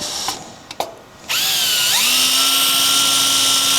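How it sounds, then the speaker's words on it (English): After a few clicks, a power drill whines up to a steady high-pitched drone and keeps running loudly, close up, drilling through a car's fuel filler panel, its pitch shifting slightly under load. "I'm gonna drill this just to see where I come out."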